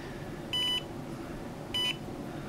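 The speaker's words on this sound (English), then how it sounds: "And it'll beep again when this time is finished." Two short electronic beeps from a Dermaray UV device timer, evenly spaced about a second apart, high-pitched and clear over a quiet background hum.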